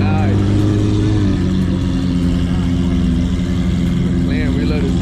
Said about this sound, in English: That Ventador sounds beautiful.